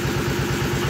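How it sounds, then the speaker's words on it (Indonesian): A soybean grinding machine runs in a tofu factory, a loud steady mechanical drone with a fast regular pulsing clatter, close and continuous. "sambil kita mengerjakan pekerjaan kita, mesin penggiling kedelai tetap nyala teman-teman"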